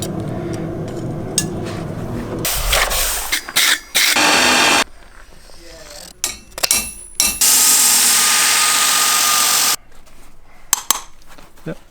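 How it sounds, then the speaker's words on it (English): A power grinder trims a horse hoof for shoeing during hoof mapping, running in loud bursts of a few seconds with clatter and brief handling noises between them, and a voice occasionally speaks. "Mark what we want to grind off."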